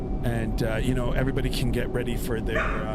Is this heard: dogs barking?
yes